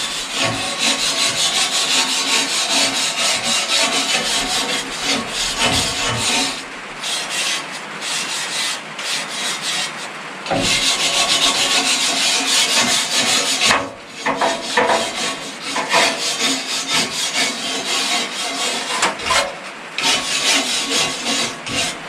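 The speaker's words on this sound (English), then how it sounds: "So to start out with, I'm going to start with a wire brush." A wire brush scrubs the inside of a Daka wood burning furnace, giving a loud, harsh, rhythmic scraping that runs in repeated strokes with short pauses, with no talking.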